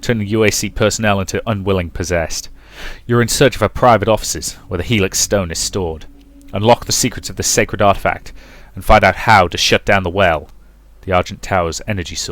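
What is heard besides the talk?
None of the usual background noises is heard.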